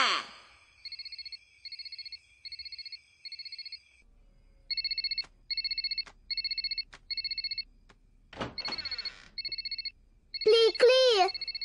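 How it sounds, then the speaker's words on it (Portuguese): A cartoon telephone rings in repeated pairs of electronic trills, loud and near, with gaps between bursts; a sigh and some vocal sounds break in near the end. "seu telefone tá tocando"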